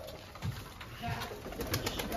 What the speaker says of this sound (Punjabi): ਲਓ ਵੀ ਕਬੂਤਰ ਨਿਕਲੇ ਸਾਰੇ ਬਾਹਰ।